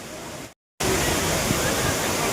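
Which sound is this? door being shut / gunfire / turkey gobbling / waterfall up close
waterfall up close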